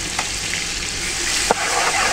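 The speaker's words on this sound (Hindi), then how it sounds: "तड़का हमारा अच्छा से फ्राई हो चुका।" Tempering spices with red chili and salt sizzle in hot oil for a vegetable pulao, a steady close frying hiss with a couple of brief stirring clicks.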